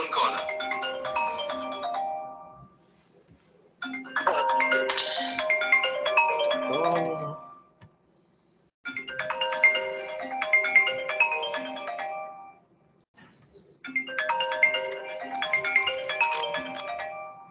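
A phone ringtone for an incoming call from an unknown caller plays a bright melodic phrase four times with short gaps between, loud and clear with no talk over it.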